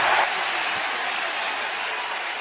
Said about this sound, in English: The crowd reacts.